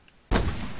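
A single sharp gunshot in RimWorld, a sudden loud crack followed by a brief booming decay, with quiet ambience before it.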